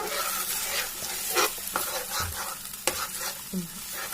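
Three eggs fry in a pan for fried rice, a close, fairly loud sizzle broken by a few sharp clicks and scrapes of a utensil stirring against the pan.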